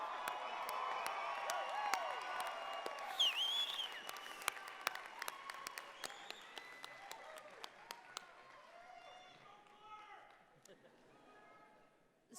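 A large audience at a University of Calgary spring convocation applauds and cheers for graduates, with sustained clapping and a few whoops and whistles that gradually taper off.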